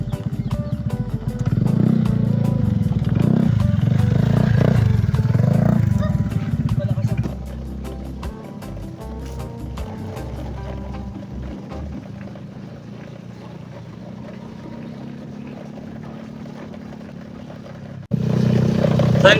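Motorcycle ridden along a dirt trail toward a waterfall near Puerto Princesa, Palawan, its engine rumbling loudly at first, then settling into a quieter steady drone with occasional clatter as the road changes.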